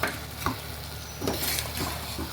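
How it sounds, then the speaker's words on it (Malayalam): Curry leaves and a mango mixture are stirred in a hot pan for a preserved mango pickle, with a steady sizzle and several scraping strokes of the spoon, close and fairly loud with no talking. "എന്നിട്ടൊന്ന് നന്നായിട്ട് ഇളക്കുക."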